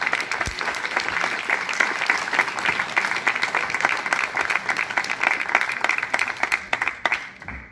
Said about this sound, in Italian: ecco, un applauso doveroso